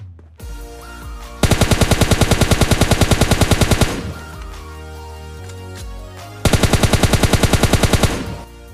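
Automatic rifle fire in PUBG Lite, two long rapid bursts of evenly spaced shots, loud and close, separated by quieter in-game ambience and scattered smaller sounds.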